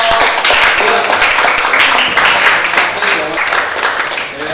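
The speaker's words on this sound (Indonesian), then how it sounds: "Tepuk tangan untuk kelompok" A high school class claps for a student presentation group, a loud, continuous patter of many hands in a classroom, with voices mixed in.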